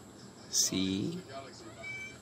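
A kitten gives a single short, high meow close by, with a sharp click just before it and a quiet room afterward.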